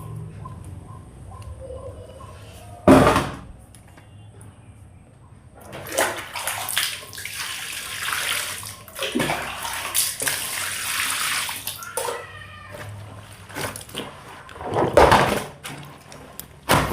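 Clothes soaked in Surf detergent are hand-washed in a tub of water, with irregular sloshing and splashing bursts separated by quieter pauses, close and fairly loud.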